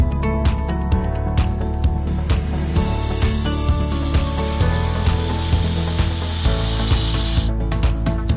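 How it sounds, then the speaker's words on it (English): A hand cutter machine with a 40-tooth TCT blade whines continuously as it saws through a decorative exterior laminate panel, loud and close, with rhythmic grinding pulses throughout. "start cutting the CenturyExteria panels as per the desired shapes and sizes using a hand cutter machine and 40 TCT blades"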